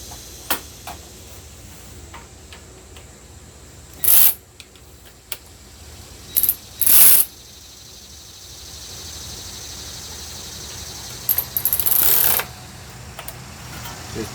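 Ryobi P344 cordless power ratchet tightening clamp bolts on a Kubota ZD28 mower's radiator, several short whirring bursts of a second or less separated by quiet pauses.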